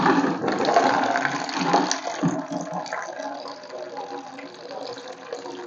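Water drains from a plastic can through a discarded pen barrel fitted into a hole in its side, making a continuous splashing, gurgling flow that is louder at first and then eases. A voice is faintly present underneath.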